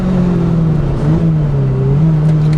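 A tuned Lotus Exige driving hard on a race track, heard as a loud, steady engine drone with shifting pitch and road noise, close and continuous.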